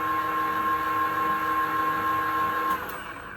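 An ERL 1340 lathe cutting threads in O1 tool steel at 400 RPM gives a steady mechanical whine with a sustained high tone, even and close, easing slightly at the end.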